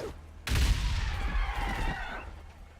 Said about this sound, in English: so we'll use a grenade